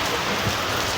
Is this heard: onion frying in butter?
no